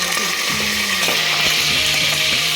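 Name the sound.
frying garlic, green chili and curry leaves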